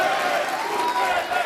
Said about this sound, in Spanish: Ahí le están aplaudiendo una ovación de pie